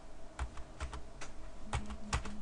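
Quiet, sparse keystrokes on a computer keyboard during accounting data entry, a handful of separate clicks spread unevenly over a soft background hiss.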